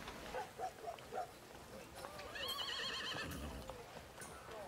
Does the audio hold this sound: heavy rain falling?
no